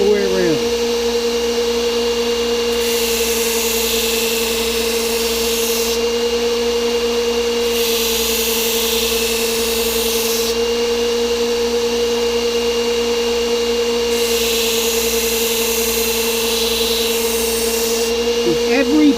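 A Work Sharp belt knife sharpener runs with a steady loud motor whine, and an added grinding hiss rises and falls in regular passes as a knife edge crosses the belt; a voice talks over it.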